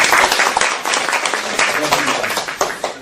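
Audience clapping at a roundtable panel meeting on obesity surgery fills the room, dense and fairly loud for about three seconds, with voices mixed in.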